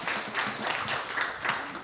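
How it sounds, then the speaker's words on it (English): A comedy club crowd in New York claps continuously with dense, even applause throughout, fairly close and sustained with no pauses. "Give yourselves a round of applause for sticking around"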